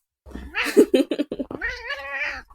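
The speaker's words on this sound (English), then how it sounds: "That cat can meow as much as he wants." A cat meows repeatedly up close, a run of short calls followed by a long, drawn-out wavering meow, loud and clear with no talking over it.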